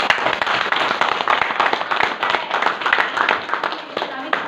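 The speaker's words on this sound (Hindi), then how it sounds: "एक जबरदस्त ताली होनी चाहिए सर के लिए।" Audience clapping for a guest at a business-plan event, a steady dense patter of applause running throughout under a loud voice speaking over it.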